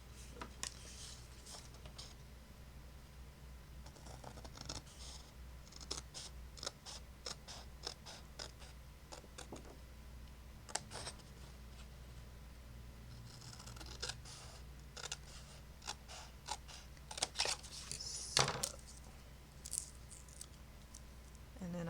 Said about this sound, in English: take your scissors, and you're going to cut this out